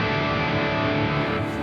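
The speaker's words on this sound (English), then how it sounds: "So this has got a lot of reverb and delay." A sustained, distorted electric guitar chord through a real amp and Two Notes Genome rings out loud and dense, washed in reverb and echoing delay, its high end fading slightly near the end.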